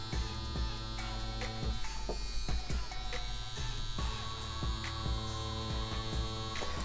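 A CNC CW2 wireless tattoo machine runs at a low voltage setting, giving a continuous electric buzz and hum with a steady throb and some intermittent clicks, close and even throughout.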